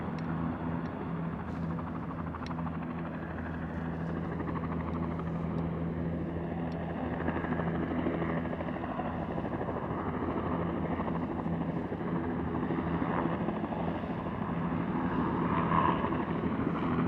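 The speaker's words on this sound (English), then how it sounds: "And you get a helicopter landing." A helicopter descends to land in Manhattan at sunset, its steady rotor and engine drone holding throughout under city background noise, without voices.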